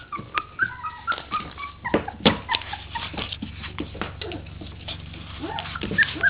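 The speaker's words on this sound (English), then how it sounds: "They get out. And then they cry piteously." Three-week-old puppies that have climbed out of their pen cry and whimper piteously at close range, a run of short, high, wavering yelps and whines with brief gaps between them.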